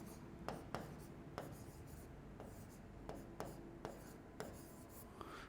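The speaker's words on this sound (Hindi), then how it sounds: "यहां पे लिख देता हूं," Chalk or marker strokes on a board during a class on the dispersion of light, with short scratchy taps and scrapes arriving in an irregular rhythm, close and fairly faint.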